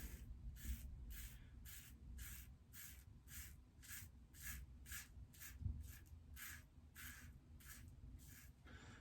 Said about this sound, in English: let you guys hear the razor do its thing, sing its song.